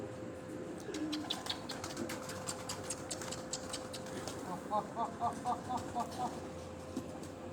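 Pigeons coo from an evening rooftop in Rawalpindi, a run of soft, rhythmic rolling calls building toward the end over a steady hum and faint background chatter.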